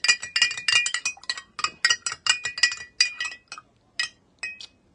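Christmas drinking glasses clink repeatedly on a table, in rapid bright rings that come in quick bursts, then thin out into a few separate clinks.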